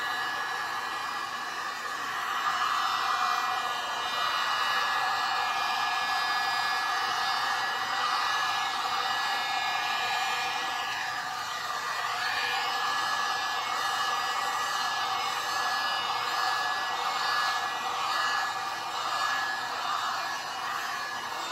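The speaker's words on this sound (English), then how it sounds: "I am blowing this on low for now, because low seems to work" A heat gun on its low setting blows a steady, close, even airflow rush over a Dutch-pour resin piece for the whole stretch, with no talk.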